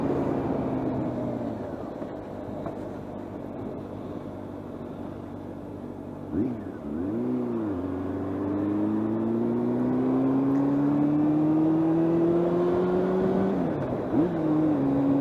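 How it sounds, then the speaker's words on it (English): A Honda motorcycle engine is revved hard, its tone climbing steadily and dropping briefly at each gear change before rising again, loud and close throughout. "Revving the engine out is always very exciting"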